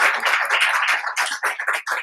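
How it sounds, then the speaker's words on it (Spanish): A conference audience in a lecture hall gives a round of applause, a dense, steady patter of many hands clapping that swells and dips in uneven waves for about two seconds with no voices over it. "Su segundo aplauso."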